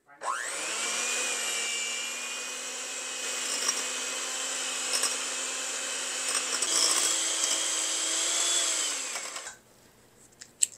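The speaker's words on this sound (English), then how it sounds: "I'm going to use the hand mixer and cream these 2 items together until they're nice and fluffy." A handheld electric mixer creams softened butter and sugar for cranberry orange ricotta cookie dough, giving a steady, close, high motor whine that runs unbroken for about nine seconds and then cuts off.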